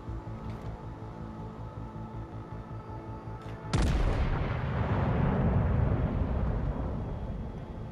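Naval gunfire in the video game World of Warships: Legends, with a loud, heavy boom that breaks in abruptly and rolls into a long rumbling decay over a low steady engine drone.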